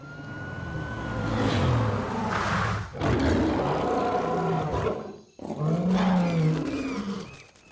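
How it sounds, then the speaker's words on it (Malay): Lions, tigers, cheetahs and panthers roaring together in a cartoon: a loud, sustained chorus of overlapping roars in three long waves with brief gaps, no talk. "Itu singa, harimau, cita dan harimau kumbang beri tanda hormat."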